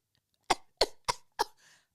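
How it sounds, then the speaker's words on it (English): Four short, sharp coughs come in quick succession from a single nearby person, evenly spaced, followed by a faint breathy trailing sound in an otherwise quiet room. "Cough and feel things exit in your mouth."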